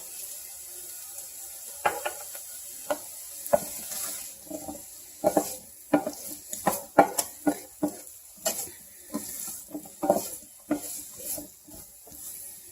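Ginger and kosher salt sizzle in a pan, with a steady faint hiss under repeated close taps and scrapes of a utensil stirring, no talking.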